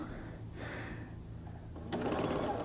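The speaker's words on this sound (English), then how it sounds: "take it over to the sewing machine, and you're just going to stitch on those lines" A sewing machine stitches quilt pieces along drawn lines in short bursts, a steady mechanical whir and rapid clatter that gets louder near the end.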